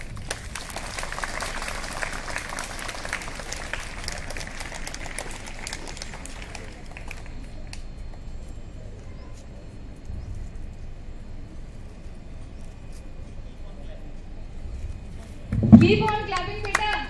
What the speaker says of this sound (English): Give them a round of applause, students.